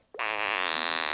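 A fart sound effect played back: one loud, buzzy, rasping blast that starts abruptly and holds steady for about a second, heard on its own.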